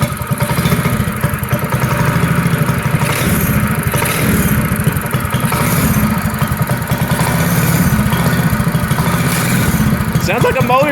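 A small 8HP scooter engine runs steadily at a buzzing idle, close and loud, with a rapid rattling putter throughout.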